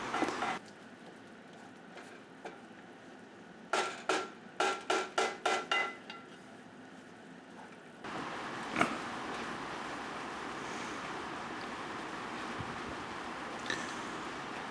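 A utensil stirs flour in a pot for chicken gnocchi soup, producing a quick run of rhythmic scraping strokes up close, followed by a steady low hiss from the pan.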